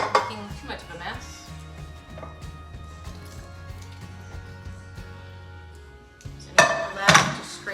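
A metal pan scraped out into a crock pot during beef and broccoli prep, with clattering knocks and scrapes spread across several seconds and a louder flurry of metallic hits near the end.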